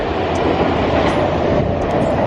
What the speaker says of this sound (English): This is the train I was taking